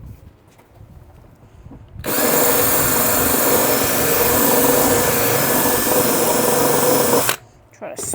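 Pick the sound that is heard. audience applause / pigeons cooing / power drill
power drill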